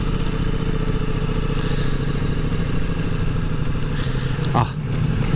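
A Ducati Multistrada V4S motorcycle engine drones steadily and loudly under way in enduro mode on a day ride toward Izu, with constant wind rush and a brief dip in the engine note near the end.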